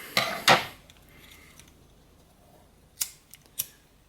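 Scissors snip an Xpand no-tie shoelace to a shorter length: two close, sharp cuts at the start, then a quiet pause and a few lighter clicks and snips near the end, with no talking.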